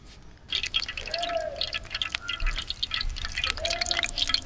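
Liquid poured into a cooking pan at a rooftop bachelors' cookout, with a steady trickling, dripping stream that runs continuously and close by for several seconds.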